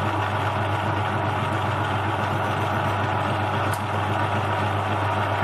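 A small lathe spins a workpiece held in an imperial collet for a light cleanup while making a tiny screwdriver, giving a steady, even motor drone with no change in pitch and one faint brief tick.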